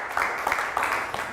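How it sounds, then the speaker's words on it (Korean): Church congregation at a revival meeting at a Full Gospel church in Gosford applauds, steady crowd clapping with a rhythmic pulse and some louder bursts, fairly close and full, with murmuring voices underneath. "박수 한번 해주세요"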